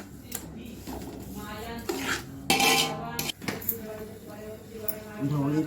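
Semolina roasting in ghee with dry fruits and banana, a metal spoon scraping and clinking against the pan in irregular strokes, with a few louder knocks and a voice speaking in places.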